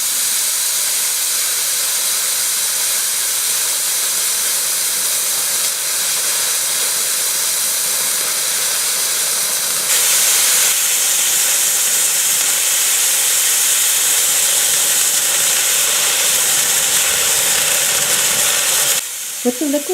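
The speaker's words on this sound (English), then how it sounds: "Carefully open the liquid CO2 source valve and allow the transfer line to vigorously purge" Liquid CO2 transfer line purging vigorously through an open source valve, a loud steady broadband hiss that holds for the whole stretch, rising slightly partway through and cutting off near the end.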